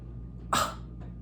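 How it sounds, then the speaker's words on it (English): A single short, forceful sneeze bursts out in a quiet room, preceded by a faint breath. "this sneeze does not want to come out."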